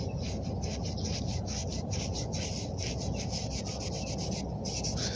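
Steady scraping rub on a rusted drill bit extension, a continuous close rasping with quick repeated strokes running for several seconds, no voices.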